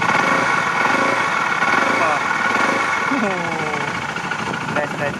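KTM RC390 motorcycle engine running steadily as its revs rise, a loud continuous drone heard up close with people talking over it.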